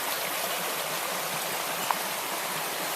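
A small creek bubbling and trickling steadily along a trail, a constant close wash of running water with no voices.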